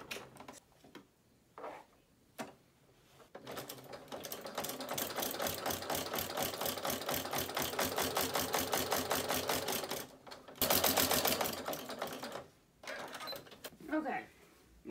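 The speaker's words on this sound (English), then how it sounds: "So we're going to sew this together now." A sewing machine stitches fabric for a ferret cuddle cup, its rapid mechanical clatter running steadily for several seconds between short pauses and quieter handling sounds.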